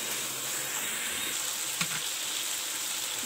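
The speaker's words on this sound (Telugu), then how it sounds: "అల్లం వెల్లుల్లి పేస్ట్ కూడా వేగిపోయింది" Ginger garlic paste sizzles steadily in a hot pan of chicken pulao, a continuous bright frying hiss with a brief stir near the middle and no talking.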